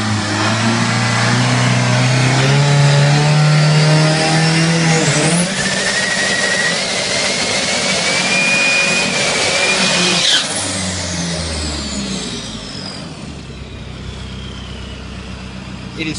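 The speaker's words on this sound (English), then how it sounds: "They just put in their backup motor, swapped it in, they've done the test, the truck's good to go." A drag racing truck's replacement engine, freshly swapped in, revs loudly and steadily close by, with rising and falling pitch sweeps and engine drone fading somewhat toward the end; a voice talks over it.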